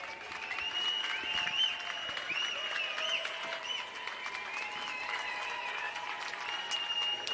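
Crowd at an indoor pool during a US Masters Swimming spring nationals meet in San Antonio cheers, whoops and claps steadily for a swimmer, a continuous loud wash of applause with shrill whistles and shouts on top.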